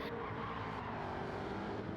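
Race cars battle in the GTO Throwback race at Goodwood, giving off a dense, steady engine roar from a pack running close together, loud and broadband with no clear pass-by.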